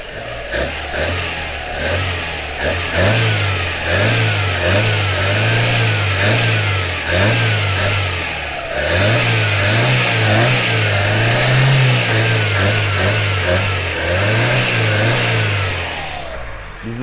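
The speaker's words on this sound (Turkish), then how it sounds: "Şu an arabamız benzinde çalışıyor." A petrol car engine runs close by, revving up and down in repeated rhythmic surges, with a brief dip midway before the revving resumes.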